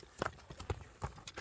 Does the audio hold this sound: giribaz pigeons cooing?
no